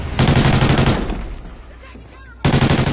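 Rapid bursts of gunfire from a shotgun in a multiplayer shooter video game, loud and dense at the start, dropping to quieter background noise midway, then resuming sharply at the end.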